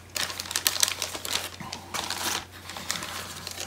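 Thick plastic bags holding model ship kit parts crinkle and rustle in close, irregular bursts of handling, loud and crisp without talk.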